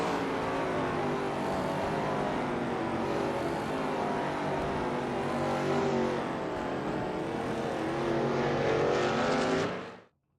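Shelby Mustang GT350R race cars starting a sim race at Goodwood Circuit, a loud, dense pack of engines roaring and revving together, sustained throughout before cutting off abruptly at the end.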